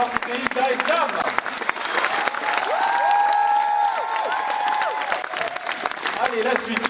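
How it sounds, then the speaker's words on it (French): A French talk show studio audience applauds loudly after a performance, dense sustained clapping with cheering mixed in, while a voice carries over the middle of the applause. "On les applaudit bien fort"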